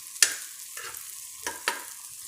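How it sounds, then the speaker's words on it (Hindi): Green peas stirred in two tablespoons of hot oil in a pan give a soft, steady sizzle broken by a few sharp clinks and scrapes of the spoon. "ये हमने 2 टेबल स्पून ऑयल डाल दिया। अब इसमें हम मटर डालेंगे।"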